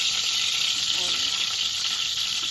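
Ginger chunks sizzle and fry steadily in a pot on the stove, a continuous close hiss with faint stirring touches partway through.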